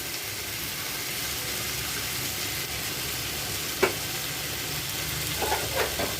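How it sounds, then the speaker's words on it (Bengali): Okra being sautéed in oil gives a steady, even sizzle that runs throughout, with a brief clink near the middle and a few soft stirring scrapes toward the end. "ভেন্ডিগুলোকে একটু তেলে জলে সেঁকে রেখেছিলাম, তেল করে রেখেছিলাম, এটাও দিয়ে দেবো। ভালো করে একটু কষিয়ে নেব।"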